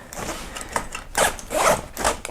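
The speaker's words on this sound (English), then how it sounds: "See how the zipper tends to get caught in the middle?" The zipper on an AER Gym Duffel 3 bag is pulled in short rasping strokes, snagging and catching partway, a close, scratchy zipping repeated several times.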